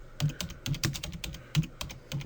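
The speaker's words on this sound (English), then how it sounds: "now as we're typing, the program is keeping track of the cursor position" Steady typing on a computer keyboard, with brisk, uneven keystrokes clicking close by in a continuous run, no voices.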